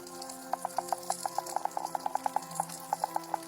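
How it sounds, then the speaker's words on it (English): Healthy coral reef recorded underwater: a steady background hiss with many quick clicks and pops scattered through it in irregular bursts, with no voices. "healthy ones are actually buzzing with life and sound like this."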